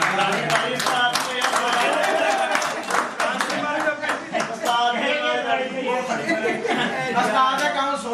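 Audience clapping at a retirement party for a sub inspector, steady close applause running throughout with chatter and light laughter mixed in.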